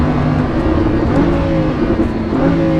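A Lamborghini Huracan's engine pulls loud and close, with a steady drone that rises and falls in pitch as the car accelerates, and no voices are heard over it.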